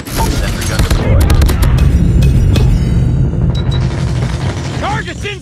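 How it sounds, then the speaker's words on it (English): In a video game, a sentry gun fires in rapid, dense bursts, loud and close, amid mechanical clatter and other battle noise, with voices calling out over it. "Sentry gun deployed."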